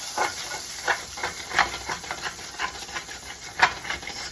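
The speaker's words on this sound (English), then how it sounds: "I'm going to deglaze this with a little bit of our vodka" Vodka hissing as it deglazes a hot pan of partially cooked shrimp, a steady close steam hiss with scraping and stirring strokes pulsing through it.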